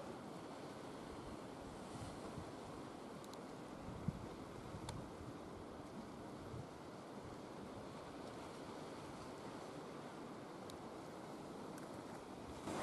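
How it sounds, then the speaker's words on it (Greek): Sea surf washes steadily onto the shore below ancient Stagira in a continuous soft rush, mixed with light wind noise on the microphone. A couple of faint clicks are heard, and no one speaks. "Κατεβαίνει μέχρι τη θάλασσα, γλύφει κύμα."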